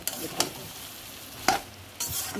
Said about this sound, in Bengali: এবার আমি একটু জল দেব